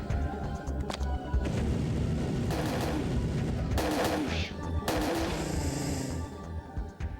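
Exploding baby monsters in the Parasite Eve 2 video game give off bursts of crackling, blasting noise that recur over a dense, loud game soundscape, with no talking.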